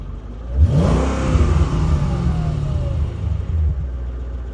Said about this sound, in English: Completely stock exhaust.